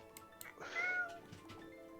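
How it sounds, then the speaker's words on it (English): A cat gives a single drawn-out meow in the middle, fairly faint and slightly muffled, with soft background noise around it. "Which sounded like meowing."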